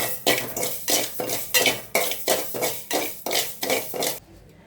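Sago dry roasting in a pot on a stove, stirred in a steady rhythm of about ten rasping scrapes of grains against metal, close and fairly loud, with no talk.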